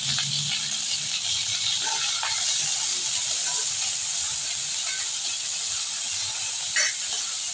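Chillies and onion sizzling in very hot oil where cumin has scorched, a steady loud hiss throughout with faint clinks, close by and with no talking.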